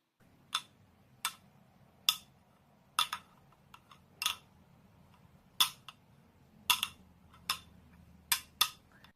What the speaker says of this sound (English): 2 pieces of Bakelite clinked together produce a heavy, clunky sound.